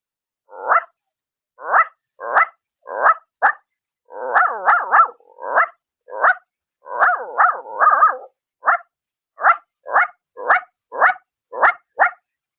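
A performer vocally imitates a rich household's dog barking, giving close, loud, evenly spaced single barks with a few growly, clustered runs in between, heard alone without other talk.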